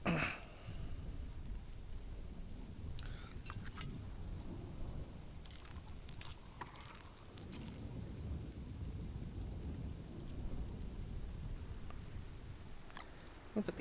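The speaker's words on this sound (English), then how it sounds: "This is a nice, very nice storm." A thunderstorm in the video game Don't Starve: constant heavy rain with deep rolling thunder beneath, plus a few faint clicks, continuous and fairly loud with no talk.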